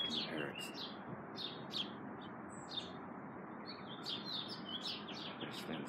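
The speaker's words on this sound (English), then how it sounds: "Mexican parrots." Wild green Mexican parrots give repeated sharp, squawking chirps at a distance, quiet calls scattered over faint background hiss.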